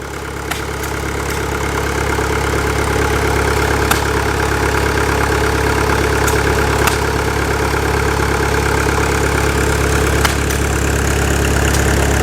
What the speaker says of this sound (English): Now this is a 1950 Caterpillar engine.